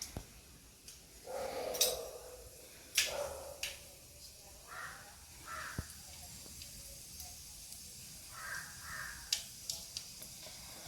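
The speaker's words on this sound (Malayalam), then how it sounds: "കടുക് പൊട്ടി പകുതിയായി." Mustard seeds splutter and pop in hot oil in a pan while a home curry is cooked, giving scattered sharp crackles and small bursts at irregular intervals, fairly faint and close.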